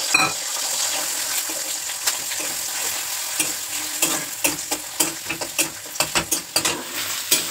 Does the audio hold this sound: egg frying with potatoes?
yes